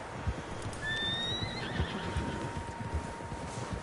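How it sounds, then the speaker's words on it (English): Several horses whinny in the open-world western video game Red Dead Redemption 2, with two shrill neighs cutting over a steady outdoor wind bed and soft hoof thuds, fairly distant and quiet. "Horses, quite a few of them."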